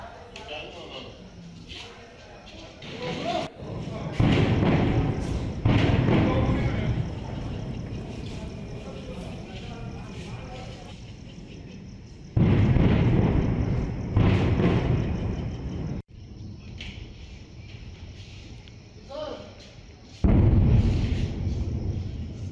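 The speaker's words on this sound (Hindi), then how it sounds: "देखिए, ये धमाके की आवाज एलओसी पर" Several heavy, booming explosions at the India–Pakistan Line of Control burst out at intervals over a steady low rumble, with a few sharper thuds between them.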